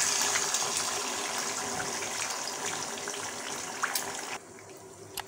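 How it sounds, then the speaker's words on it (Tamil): Four eggs dropped into hot oil in a pan over a low flame for hotel-style egg fried rice, giving a steady close hiss and crackle that drops away abruptly near the end. "இப்போ இந்த 4 முட்டைகளை பொறுமையாக நம்ம சேர்த்துக்கலாம்."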